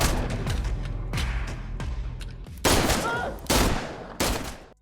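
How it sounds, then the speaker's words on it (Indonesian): Gunfire in a film scene as a man shoots a rifle, with several loud, sharp shots in an irregular sequence, each followed by a booming tail. "dirinya malah mengambil senapan lalu menembaki orang-orang di sana"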